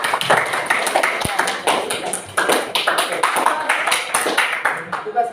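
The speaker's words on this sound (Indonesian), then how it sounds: "tepuk tangan dulu" A class of students claps hands in a lively, uneven burst, with sharp, close slaps repeating rapidly over about five seconds and brief dips between waves.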